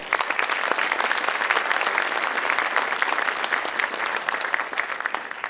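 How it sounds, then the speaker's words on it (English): Loud, dense audience applause at a university academic awards ceremony, many hands clapping in a continuous, even roar that holds steady throughout. "join me in congratulating her with a round of applause"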